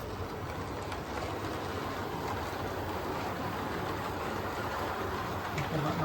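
A model railway locomotive rumbles steadily round the layout track, a continuous low running noise held at an even level without a break and with no voices over it.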